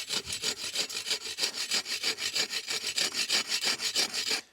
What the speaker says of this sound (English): This is a push-pull saw, so you can see how small I'm starting off.